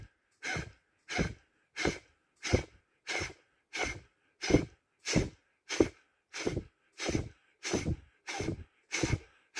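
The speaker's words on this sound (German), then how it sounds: "Wir achten dabei eben mehr auf das druckvolle Ausatmen." Forceful exhalations from a breathing exercise, about fourteen sharp, evenly spaced puffs of breath blown out hard through the mouth, each separated by brief quiet, close and clear with no talking.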